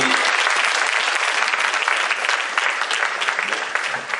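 A church congregation breaks into loud, sustained applause, dense steady clapping filling the room throughout with no pause.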